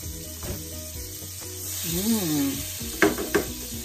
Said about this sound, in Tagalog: Init ng kawali natin. Yan. Lagay natin yung butter.